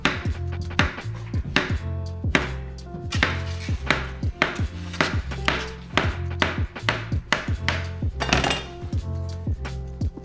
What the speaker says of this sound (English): So I'm gonna chop up each banana probably about,